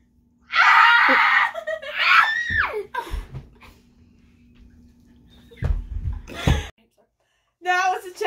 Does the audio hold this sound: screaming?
yes